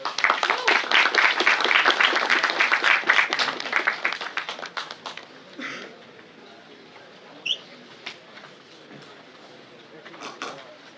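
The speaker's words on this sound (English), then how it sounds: "we request you all to give a round of applause" An audience at a webinar event claps in a dense, lively round of applause for about five seconds, then it thins to scattered claps and fades into quiet room noise with a few small sounds.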